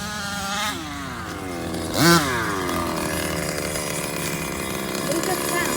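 Rovan Baja 45cc gas RC car engine running with a loose exhaust, a steady buzzing two-stroke drone with a brief louder rev swell midway, close by, with a voice talking over it.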